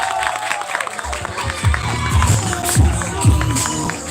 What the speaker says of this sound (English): give applause for Brother Azril, guys